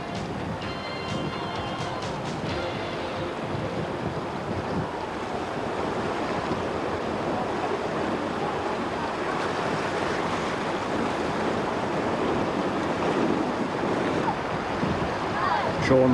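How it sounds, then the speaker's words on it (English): Canoe racers plow through river rapids on the Umkomaas River during a 1988 marathon, with continuous rushing water and surf-like roar under heavy wind noise on the microphone, steady throughout. "Oscar Chalupsky and Lee McGregor, plows through yet another rapid."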